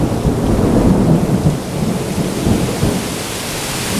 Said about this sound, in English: We got a major thunderstorm coming through right now.